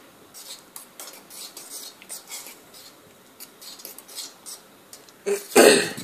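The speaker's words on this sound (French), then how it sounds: "N'oubliez pas de mélanger, c'est important, il faut écraser un peu, il faut mélanger." Pasta for a homemade carbonara is stirred and pressed in a pot, giving soft scraping taps that build into a short burst of louder metallic clinks and clatter near the end, with no voices.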